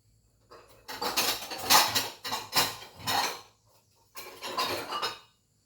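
A ladle clinks and scrapes against a pot and bowl while serving Thai sour curry (gaeng som) with lime and pineapple, in several close metallic bursts, a short pause, then one more round of clatter.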